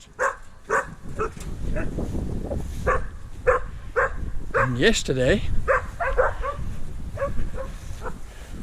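Dogs bark repeatedly outdoors beside a farm field, their short yaps and a whine coming through while a person talks over them.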